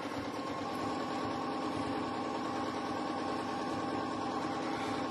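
A Janome M7 sewing machine runs fast for free-motion quilting, giving a soft, steady motor hum with a rapid, even stitching rhythm that continues unbroken.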